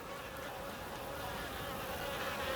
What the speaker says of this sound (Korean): 한낮에는 물가에 파리떼가 잔뜩 몰려듭니다.